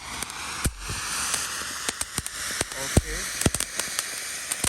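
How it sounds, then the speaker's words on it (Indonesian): Two fountain fireworks, one medium and one mega jumbo, burn together at night during Ramadan, a continuous loud hissing spray broken by sharp crackling pops at irregular intervals. "Selanjutnya kita nyalakan mercon air mancur 2 sekaligus ukuran sedang dan mega jumbo paling besar ini"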